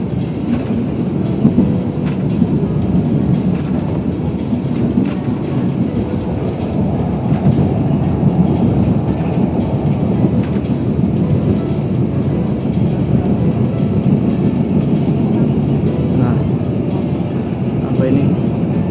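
A passenger train rounds a curve near Jatinegara station, giving a continuous heavy rumble with rail clatter heard from on board, while a person talks over the noise throughout.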